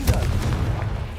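A Confringo spell explodes in a Harry Potter video game: one short, loud, low boom that fades into a rumbling decay.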